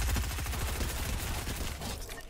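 Rapid bursts of automatic gunfire from the video game Fortnite rattle off in quick, evenly spaced shots, moderately loud and continuous throughout.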